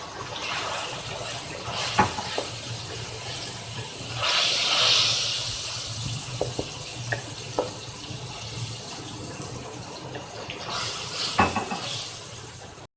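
Water poured into onions frying in a pan for a chicken bhindi masala, giving a steady loud hiss and sizzle throughout with a few clinks of utensils and a burst of stronger sizzling near the end.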